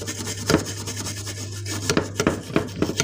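A brush scrubs cleaning liquid off the Bluetooth module of an Ashley audio mixer, giving close, scratchy rubbing strokes in an uneven rhythm over a steady low hum.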